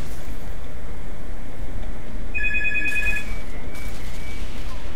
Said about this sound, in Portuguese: Ei, telefone!